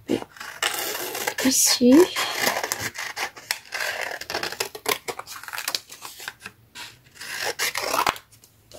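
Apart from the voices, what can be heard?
scissors cutting paper die cuts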